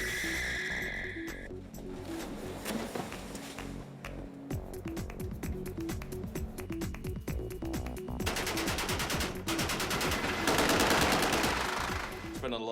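Sustained H&K UMP machine-gun fire during a freeway car chase rattles in dense, rapid bursts for over twelve seconds. Sharp, loud reports blend with a roaring vehicle background, and the firing intensifies toward the end.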